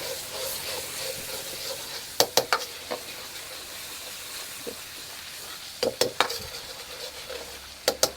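Steady frying sizzle and hiss with a utensil scraping and clacking against a wok in bursts as kuey teow noodles with tomato sauce, sweet soy sauce and oyster sauce are stirred.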